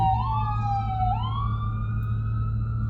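Close and loud, an ambulance siren passes on a Los Angeles street, sweeping down then rising again in a long wail above a constant low vehicle rumble, with no voices.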